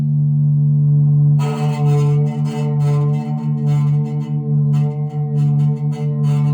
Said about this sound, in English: Then you get some feedback.